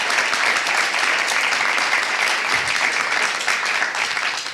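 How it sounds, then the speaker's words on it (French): A full room applauds the speakers at the close of a Grenoble 2040 talk, loud, dense and sustained clapping with no pause and no voices. "Je vous propose d'applaudir encore une fois chacun des intervenants et ce beau travail"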